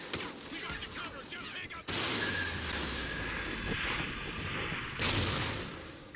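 Call of Duty: Ghosts gunfire and explosions on Xbox One: heavy booming blasts and a rumbling barrage with sharp onsets near two and five seconds, loud, with faint voices in the mix.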